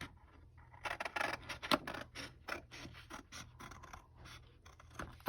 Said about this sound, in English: You can tell I don't normally use scissors.